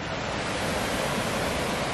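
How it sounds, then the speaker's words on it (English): A small stream tributary rushes along a hiking trail near Rock Creek Falls, a steady broadband water hiss heard close and alone. "There's another little tributary."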